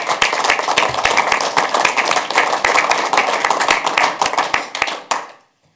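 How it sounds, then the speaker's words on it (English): Applause at a fire district board meeting, thanking supporters: a room of people clapping briskly with distinct sharp hand claps, holding steady for about five seconds before quickly dying away to silence. "let's have a round of applause for those supporters"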